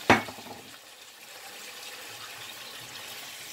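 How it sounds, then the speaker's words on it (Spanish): Dry wine poured into a pan of frying chicken gizzards for a Cuban stew, a sharp burst of sizzle at the start that settles into a steady, softer hiss and bubbling. "Y vamos a poner un poco de vino seco"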